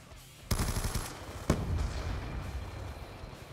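Sharp gunfire bursts from a weapon in Black Ops 2: a loud crack begins a rapid sustained volley, and a second strong shot leads into further fire with a rumbling tail.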